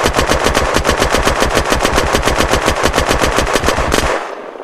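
A Zubektikov rifle in the Unturned video game empties a full magazine in one long, loud, evenly spaced automatic burst of roughly forty shots, ending abruptly with a brief quiet tail and no talking.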